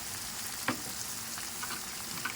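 Four eggs sizzle in a hot frying pan in a rural nipa hut kitchen, a steady, even crackle of oil with a couple of brief soft knocks.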